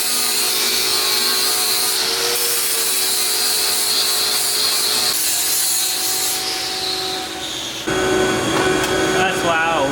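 A flap disc on an angle grinder grinds old tubing off a Nissan 240SX, a loud, continuous, harsh abrasive whine that shifts in pitch as pressure changes and runs steadily throughout.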